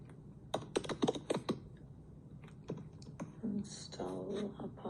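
An apt install command for Apache is typed on a computer keyboard, with a rapid run of close, crisp keystrokes followed by scattered taps and a faint background murmur.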